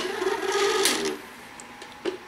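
A welding positioner's electric motor is switched on and hums steadily with a whirring tone for about a second, then fades to quiet with a couple of faint clicks, close by and without speech.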